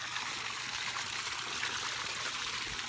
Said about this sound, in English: So I'm just draining these hardwood fuel pellets right now